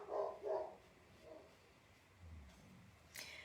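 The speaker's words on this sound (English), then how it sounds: "I let him bark a little bit more too because I want everybody out there to know there was a big old dog in here." A big dog barks twice in quick succession, loud and close, followed by softer low grumbling and a fainter final yelp, with no talk over it.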